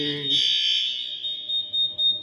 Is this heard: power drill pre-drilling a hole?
no